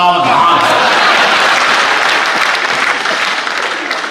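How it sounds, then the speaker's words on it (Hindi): Loud audience applause at a Hindi comedy poetry gathering swells at once and holds as a dense wash of clapping, slowly fading toward the end. "फिर आपकी तालियां उठनी चाहिए"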